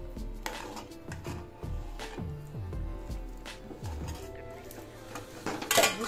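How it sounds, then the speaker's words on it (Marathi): Metal spoon scraping and knocking against a pot while cooked sabudana is stirred into cooked bhagar (barnyard millet) for fasting chakli, a run of close clinks and scrapes ending in a sharper clatter. "तो आपण याच्यामध्ये घालणार आहोत आणि याला मिक्स करायचे"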